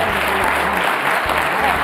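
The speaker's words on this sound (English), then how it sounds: "Big round of applause." A conference panel audience applauds with steady, dense clapping that fills the whole moment at an even, energetic level.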